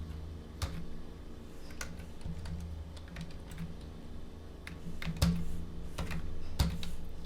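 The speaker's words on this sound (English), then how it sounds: "Having a little trouble typing tonight" Computer keyboard typing during an evening coding session, with irregular clicking keystrokes and occasional sharper key hits over a steady low hum, close and moderately quiet.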